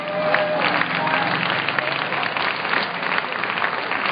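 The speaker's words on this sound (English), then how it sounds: "I really want you guys to give a round of applause to the head of security here, Ralph" A crowd at a rally at the Hawaii State Capitol gives a round of applause for the head of security, continuous close clapping with scattered cheering voices mixed in.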